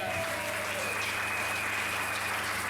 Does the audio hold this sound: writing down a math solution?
no